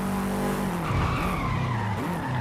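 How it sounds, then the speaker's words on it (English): A car braking hard in the racing game Forza Horizon 5. The tires squeal loudly and continuously under heavy engine noise, and the pitch drops as the car slows, with no voices. "I like how the brakes heat up when you slam on them"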